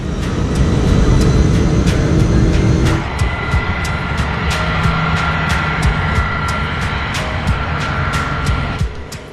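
A passenger jet taking off from runway 22 at Gander airport for a southbound departure, a loud sustained engine roar dominating throughout with a deep low rumble and steady high whine, alone without voices.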